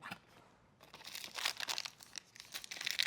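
A 2021 Tier 1 trading card pack wrapped in tin foil being torn and unwrapped up close, with bursts of crinkling and crackling foil that grow busier and louder toward the end.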